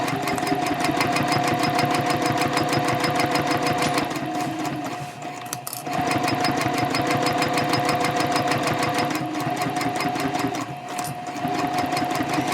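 Sewing machine stitching a tote bag seam at 3.0 stitch length, a fast, even mechanical chatter running loud and continuous, briefly slowing around midway for a back stitch before resuming at full speed.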